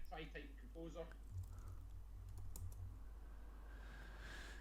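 Typing a command on a computer keyboard produces soft, close key clicks and taps, heard with talking at the start and a steady background hum.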